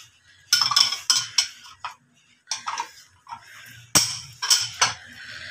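Chickpea chaat ingredients with chopped onion, green chilies and tomatoes are mixed in a bowl. Up close, a utensil clinks and scrapes against the bowl in irregular bursts, with short quiet gaps between them.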